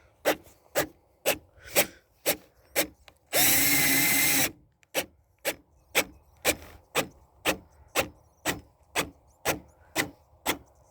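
Cordless drill with its clutch engaged, driving into wood, gives off a steady series of sharp rhythmic ratcheting pulses, broken by one brief continuous motor whine, then pulsing again at an even pace.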